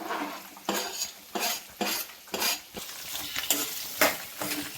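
Green chillies and onion sizzle in hot tempering oil while a spoon stirs in regular, rhythmic scrapes against the pan, close and moderately loud.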